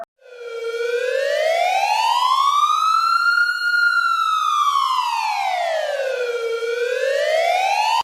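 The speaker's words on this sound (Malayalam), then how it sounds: "പ്രധാനമായും ആംബുലൻസിന് 4 സൈറനാണുള്ളത്. ഒന്ന് വെയിൽ സൗണ്ട്." An ambulance siren in its wail tone rises and falls in a slow, smooth sweep, loud and close, running continuously with no talk.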